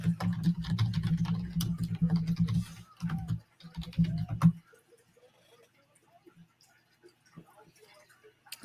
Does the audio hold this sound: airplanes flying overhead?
no